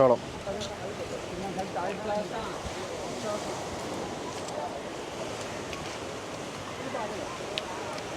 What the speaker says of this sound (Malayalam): നല്ല കാറ്റ്, അടിപൊളി കാറ്റ്